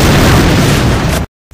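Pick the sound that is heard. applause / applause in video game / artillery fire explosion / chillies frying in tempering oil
artillery fire explosion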